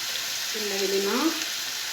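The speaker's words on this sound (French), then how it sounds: "Là, on va le laisser donc se dorer." Paella rice frying and browning in a pan, a steady close sizzle that holds for the whole stretch, with a brief tonal squeak from the pan partway through.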